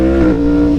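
Close, loud revving of a Yamaha R1 motorcycle engine during a quick shift, a brief steady high-pitched drone with a slight dip in pitch, heard alone.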